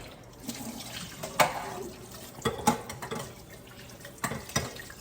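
Tap water runs over red lentils being rinsed in a kitchen sink, a steady close splashing flow broken by a few louder sloshes and spatters, with no talking.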